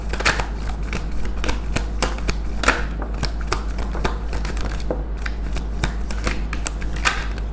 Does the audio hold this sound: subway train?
no